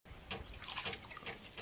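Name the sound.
washing small raw mangoes in water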